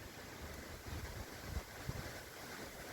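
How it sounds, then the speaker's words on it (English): Wind blows outside St. John the Baptist Church in Heather, a steady low rushing roar buffeting the microphone with a few soft gusts, continuous and with no voice. "Bit windy again, as you can hear"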